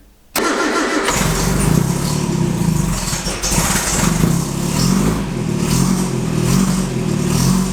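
A 1960 Triumph TR3 engine cranks and fires with the choke pulled, then settles into a loud, steady, rumbling idle close by, with no talking.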